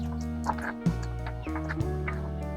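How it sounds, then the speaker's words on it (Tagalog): Chickens cluck in a rural farmyard setting, with short bursts of clucking over a steady background, fairly close and moderately loud, with no talk. "Ayan mga manok."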